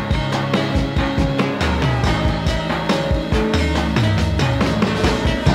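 Hip-hop beat with a processed, chopped-up drum break layered over bass, chords and a lead melody, dense and continuous with a steady rhythmic pulse, loud and close, without talk.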